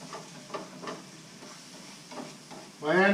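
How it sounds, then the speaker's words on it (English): Raw Roma tomato sizzles in a hot pan while a utensil stirs it with soft scraping strokes, the frying hiss growing suddenly louder near the end. "I'll go ahead and put in my raw Roma tomato to try to cook it down a little"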